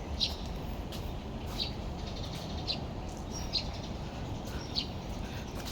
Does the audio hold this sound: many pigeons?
yes